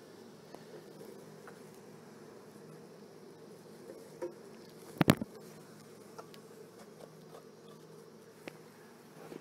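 Honey bees drone and buzz steadily around an open hive with empty comb during a first inspection, a close, continuous hum broken by a few sharp knocks and scrapes.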